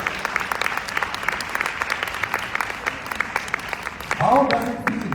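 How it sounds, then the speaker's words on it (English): Audience applause at a live celebrity event, a steady stream of many hands clapping with some sharper claps, and a voice briefly rising near the end. "a round of applause for that"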